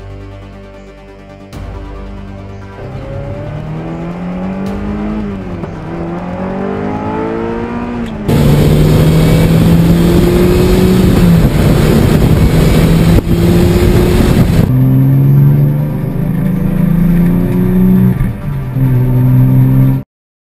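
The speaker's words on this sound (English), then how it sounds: "This is the GK-J006 Mini Jeep." Small engine of a Coolster GK-J006 mini jeep go-kart running outdoors in freezing cold, a steady buzzing drone that rises and falls with throttle, turning louder and rougher midway under harder revving, then settling back, with no talk.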